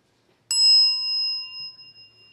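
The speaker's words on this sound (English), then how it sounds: "This is the bell, and it sounds like this." A single bright bell strike rings out clearly and sustains, its clear tone slowly fading over about two seconds in an otherwise quiet room.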